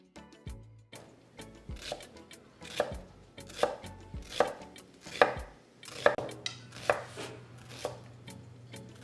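Knife cuts through salmon on a board with about a dozen crisp, evenly paced chopping strokes, close up and clear over a faint low hum.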